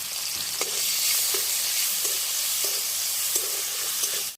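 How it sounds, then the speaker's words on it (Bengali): Prawns frying in white oil in a wok for restaurant-style mixed fried rice, a loud constant sizzle with regular clunks of a spatula turning them. "এবার চিংড়ি মাছগুলো ভেজে নেবো"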